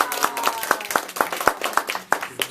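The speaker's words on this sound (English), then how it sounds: "Let's give another round of applause to Rebecca." At a Toastmasters meeting, a room of people applauds in steady, moderately loud clapping that lasts a couple of seconds.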